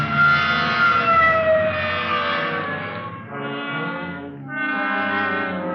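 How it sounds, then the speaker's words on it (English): A police car siren wails loud and close, rising and falling in long sweeping tones with a brief dip partway through, sounding alone without talk. "hit the siren"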